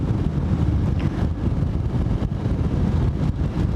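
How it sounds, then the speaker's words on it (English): Wind buffets hard past a rider on a motorbike, a loud, steady roaring rumble with gusty fluctuations and no voices. "That wind is still buffety."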